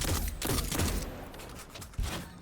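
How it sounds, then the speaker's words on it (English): Rapid bursts of scout rifle gunfire from the video game Destiny 2 crack in a quick, dense series and then thin out over a short stretch. "You can sit here and just tink away at him with your scout rifle"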